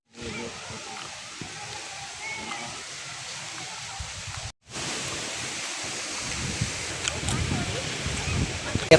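Wind sweeps across open village fields under a cloudy sky before a storm, a steady, loud rushing roar that breaks off for a moment and then returns with strong gusts.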